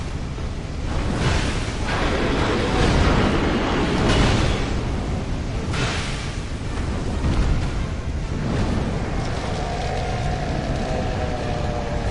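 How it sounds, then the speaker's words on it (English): A Dark Souls 2 explosion rolls through as a loud, sustained roar with deep rumbling bursts peaking around the early seconds, then a steady churning blast that stays heavy and close for the whole stretch. "Come on, do your explosion."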